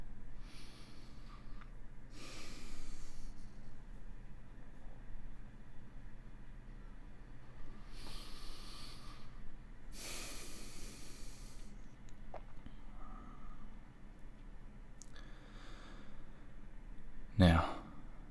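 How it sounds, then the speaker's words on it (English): Pranic breathing comes as a few distinct nasal inhales and sharp breath bursts spaced through a quiet stretch, close and soft, with a louder snort-like burst near the end. "we're going to do 3 more cycles of pranic breathing"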